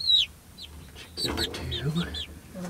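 Adult hens in a chicken coop at wake-up, with clucks and higher calls scattered over a couple of seconds, close by, while a person speaks briefly over them.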